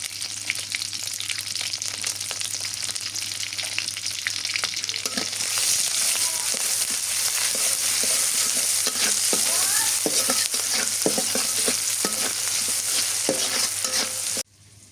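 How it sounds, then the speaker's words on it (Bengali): Oil sizzles loudly as garlic and chili fry in a pan, with occasional scraping and stirring sounds, the hiss growing stronger partway through. "রসুন আর মরিচ ভাজা হয়ে গেছে"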